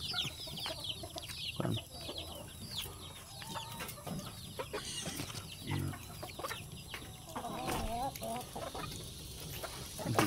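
Chickens cluck and chatter nearby in a busy, overlapping flock on a farm, with a few louder calls standing out over a quiet background.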